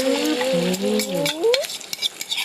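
Beaten egg for a kale omelette (chaya) poured into hot oil, setting off a steady, close sizzle and bubbling, with a voice briefly heard over the frying at the start.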